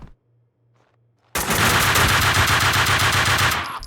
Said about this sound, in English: every bullet he just shot at me hit